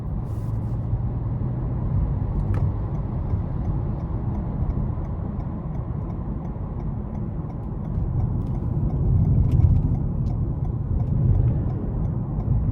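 Interior drone of a 2021 Toyota Avalon Hybrid XSE accelerating in sport mode: a steady, muffled low hum of engine and road noise that swells slightly partway through, with no talk.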